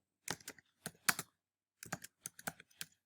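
Typing on a computer keyboard, heard as close, crisp key clicks in two short bursts separated by a pause, fairly quiet and with no talking.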